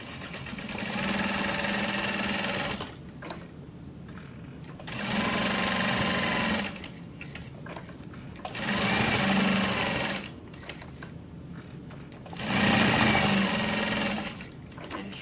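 Sewing machine stitching down the sides of a leather clutch wallet, running in four steady bursts of about two to three seconds each with short quiet pauses between, close and fairly loud.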